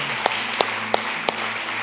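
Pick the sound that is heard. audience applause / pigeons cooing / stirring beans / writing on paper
audience applause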